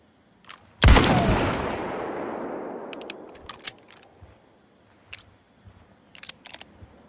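A single loud revolver shot rings out in the video game Indiana Jones and the Great Circle, its long reverberant tail fading over about two seconds, followed by scattered faint clicks and small handling noises.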